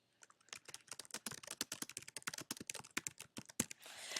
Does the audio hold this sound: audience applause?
no